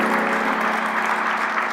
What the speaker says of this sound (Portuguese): uma salva de palmas que é um milagre conseguir parar o helicóptero desse